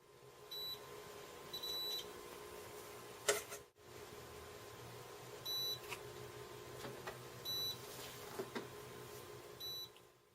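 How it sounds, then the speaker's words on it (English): Short, faint electronic beeps from a multimeter checking continuity on wires painted with homemade conductive ink, sounding in small irregular clusters over a quiet room hum with an occasional knock. "I use the multimeter to do some quick continuity tests."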